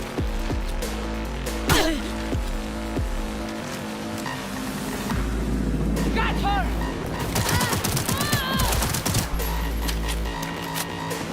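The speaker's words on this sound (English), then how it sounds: "stand right there so I can shoot you." Rapid bursts of gunfire in the video game Cyberpunk 2077, loud and near, layered over game music and engine or vehicle noise, with quick volleys spread through the scene.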